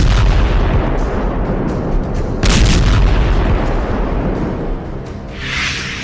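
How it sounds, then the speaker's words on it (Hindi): Russian S-300 missile strikes hit Ukraine, loud booming blasts with a rumbling, crackling wash between them, one heavy burst near the middle and a whooshing rush toward the end. "बुधवार 25 सितंबर की सुबह रूस ने यूक्रेन में S-300 से मिसाइल दागी है।"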